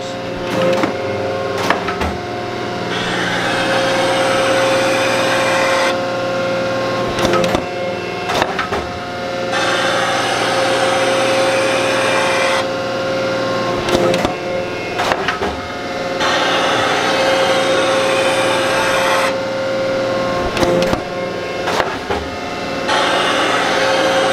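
A metal planer runs in gear, its table sweeping back and forth in steady repeating strokes, with sharp clicks and knocks as the feed indexes on each return stroke, close and continuous.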